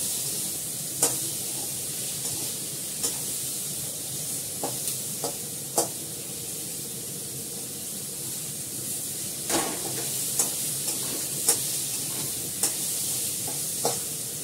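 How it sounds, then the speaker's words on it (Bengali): Ginger and garlic paste sizzles steadily in a pan, with a spoon scraping and stirring in irregular clicks and knocks over the constant frying hiss, close and fairly quiet, no voices. "আদা বাটা রসুন বাটাটা দিয়ে দিলাম। ভালো করে কষবো।"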